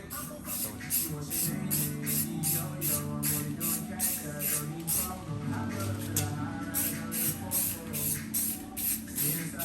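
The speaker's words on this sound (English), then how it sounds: "We'll go ahead and put some clear coat on it so it lasts a lot longer." Clear coat sprayed from an aerosol can onto a Nismo GTR wing side garnish, a steady continuous hiss broken into rapid repeated bursts over a low background hum, close and fairly loud throughout.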